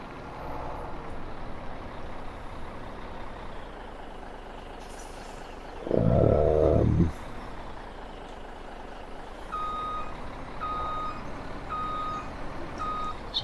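Truck reversing trailers in Farming Simulator 17, a low idling engine with a short loud air brake hiss midway, then a run of evenly spaced reversing beeps.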